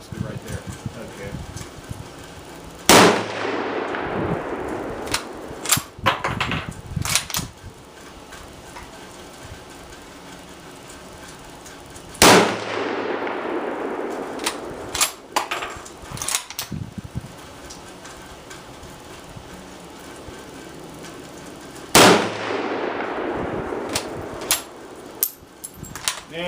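Three loud Mosin rifle shots fired left-handed at an outdoor range, spaced about nine seconds apart, each a sharp blast with a long ringing decay, with bolt handling and shuffling in between.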